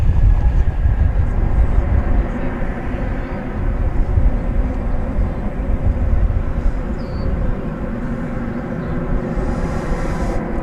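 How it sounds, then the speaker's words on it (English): An American Airlines Airbus A319 from Albuquerque, built in 2000, coming in to land at DFW Airport on runway 18 right, a loud continuous low engine roar that holds steady throughout. "American Flight 9 from Albuquerque is just about to touch down."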